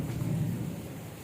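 Steady rain falling during a downpour in Saudi Arabia, a continuous low rumbling wash of water with no distinct drops, moderately loud and unbroken.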